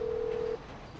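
A single short phone dialing tone in GTA V, sounding once for about half a second while calling a taxi, then cutting off into faint background ambience.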